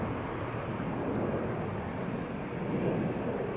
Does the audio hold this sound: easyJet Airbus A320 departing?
yes